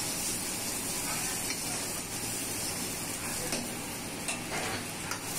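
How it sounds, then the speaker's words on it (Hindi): Onions sizzle and fry steadily in a pan for street-style veg noodles, a loud, dense hiss that runs throughout, with occasional light scrapes from stirring. "उसके बाद डालेंगे ऑनियन,"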